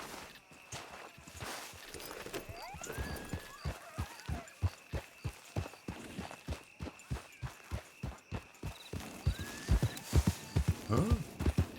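Horse hooves clip-clop at a steady walking rhythm in a western roleplay video game, regular distinct hoofbeats throughout, with a brief whinny-like squeal midway and a louder cluster near the end.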